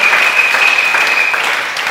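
A church congregation applauds and acclaims the Lord during a French-language sermon, with dense, steady clapping that stays loud and continuous throughout and a faint mix of voices underneath.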